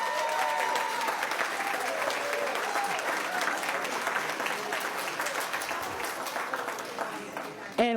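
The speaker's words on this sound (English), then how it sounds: "Let's give her a round of applause." Sustained applause from an audience at a school board meeting honoring a senior volunteer, a dense even clatter of clapping filling the room for several seconds before a voice returns at the end.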